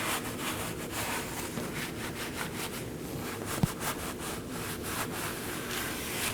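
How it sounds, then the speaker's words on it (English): A wire brush scrubs the face of a steering knuckle on a 2018-2024 Chevrolet Equinox 1.5L, a rhythmic series of close, gritty back-and-forth rasping strokes with one small sharp tick midway. "be cleaning the face of the knuckle with a wire brush"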